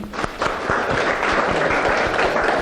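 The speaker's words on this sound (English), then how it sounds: "Claps to Adi." Audience applauds at a talk on dying, a steady wash of many hands clapping with distinct individual claps near the front, continuous throughout.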